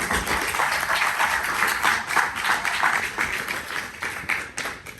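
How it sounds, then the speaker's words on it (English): Audience applause at a film festival panel discussion, a dense, steady wash of many hands clapping that holds at fairly even loudness throughout with no voices over it. "please give him a round of applause"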